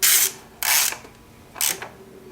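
A hand ratchet tightens 10 mm bolts while spark plugs are changed on a 2013–2020 Nissan Rogue, three quick close clicking bursts separated by short pauses.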